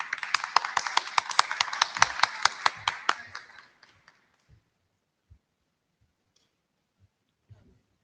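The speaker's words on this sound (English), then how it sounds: "we could give her a round of applause for her award" An audience at an IETF technical meeting applauds an award, a burst of brisk hand claps that fades out after a few seconds, leaving only a few scattered taps and quiet room noise.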